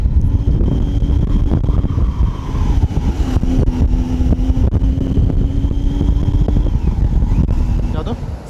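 Motorcycles riding on a road between Bangalore and BR Hills, a steady close engine drone with wind buffeting the microphone, continuous throughout.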